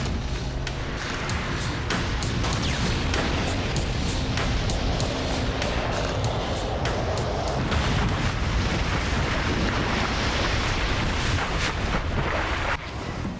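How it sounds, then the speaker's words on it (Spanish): A sustained, roaring blast from the Chernobyl nuclear reactor explosion, with a heavy low rumble and crackling bursts, loud and continuous throughout before cutting off abruptly near the end. "La chispa que produciría la enorme explosión ya se había originado"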